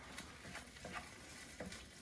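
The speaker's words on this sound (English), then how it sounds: "I'm just going to pour that in and then give it a stir." Enchilada sauce being stirred in a pan, soft scraping strokes recurring every half second or so over a quiet, steady sizzle, close up and alone.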